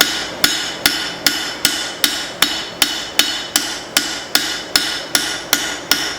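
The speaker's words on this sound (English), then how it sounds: "Now I'm going to plenish out my bevels." A hammer planishes the bevels of a forged spring steel cleaver, ringing out about fourteen sharp, even metallic blows at a brisk, regular pace, loud and close with no voices.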